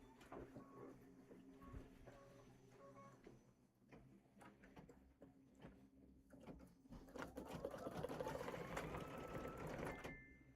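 A sewing machine finishes a final stitch on a July pillow wrap, with soft rapid mechanical clatter, scattered clicks and a rising whirring run near the end, fairly quiet overall.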